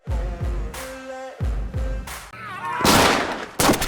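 Gunshots from a comedy movie scene, several loud sharp bangs with ringing tails spread across the clip, mixed with music.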